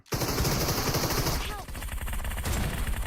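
Rapid automatic gunfire from a vehicle fight in an online shooter game rattles in dense, loud bursts almost without pause, with faint voice chat underneath.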